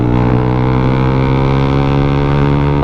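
A Yamaha Sniper 155 motorcycle engine running on a dyno at very high RPM, around 12,000, holding a loud, steady, buzzing harmonic drone throughout with no talk.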